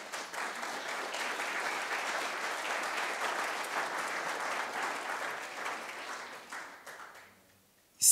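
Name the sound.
audience applause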